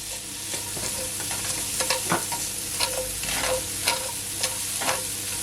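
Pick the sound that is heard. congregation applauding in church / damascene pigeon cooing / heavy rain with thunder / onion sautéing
onion sautéing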